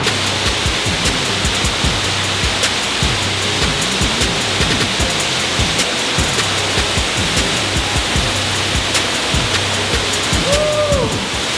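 A waterfall inside a cave produces a loud, constant rushing roar that fills the space evenly throughout, with faint muffled voices underneath and a brief whistle-like tone near the end.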